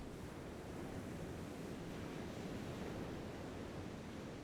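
Ocean surf rolls onto a beach as a steady, even wash of broadband roar with no distinct breaks, heard alone at a moderate distance.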